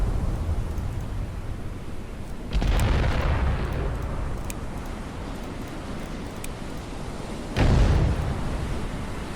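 Naval gunfire in a Battleship Command battle, with two deep booming blasts several seconds apart, each a rumbling burst that fades into a steady low roar of sea and engine ambience.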